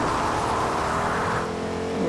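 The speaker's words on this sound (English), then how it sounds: "Right now, do a little power brake slide." A Fortnite car revs its engine and skids through a power brake slide, a steady loud motor drone with a shifting, sliding tone, no voices over it.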